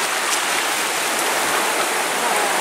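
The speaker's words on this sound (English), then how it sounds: "That's really throwing a lot of water out of there." Water rushes out of an old reservoir beside an abandoned bridge on the Withlacoochee. It makes a loud, steady roar of churning flow that fills the whole clip with no pauses.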